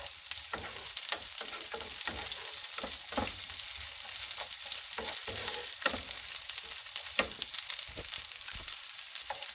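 Onion fries in a pan, giving a steady, close sizzle and crackle throughout, with periodic scraping stirs breaking through the hiss at an irregular rhythm.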